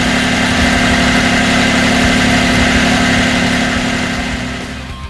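A steady car engine idles on its own during a hybrid build, a constant low mechanical drone with even vibration, easing slightly quieter near the end.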